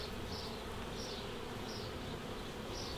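Honeybees buzz densely and continuously while being shaken into nucleus hives, a loud close drone with faint rising swells, and no voices.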